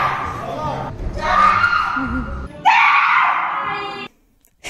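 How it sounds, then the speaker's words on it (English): A climber's power scream echoes in an indoor climbing gym, two long loud sustained yells one after the other, then a sudden cutoff to near silence. "you probably heard me screaming at least once"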